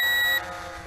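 A Bayangtoys X21 brushless RC quadcopter beeps on return-to-home: one steady high electronic tone lasting under half a second, then it cuts off, leaving faint background noise.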